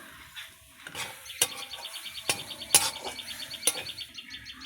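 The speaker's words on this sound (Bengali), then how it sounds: "নারকেলটা ভেজে নিব" Grated coconut frying in a pan, with soft sizzling and several sharp scraping strokes of a spatula at an irregular pace, close by, while faint bird chirps come from the background.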